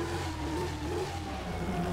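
Mercedes-Benz GT63 engine in GTA 5, a loud, steady low roar holding a constant revving drone throughout, close and unbroken, with no talk over it.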